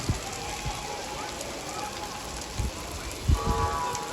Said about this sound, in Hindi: इतनी दुआओं के बाद कराची में फाइनली बारिश हो गई है